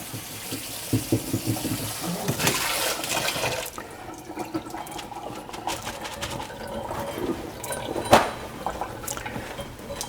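Kitchen tap water runs steadily for several seconds as food is rinsed in a sink, with splashing that swells and fades and one louder splash near the end.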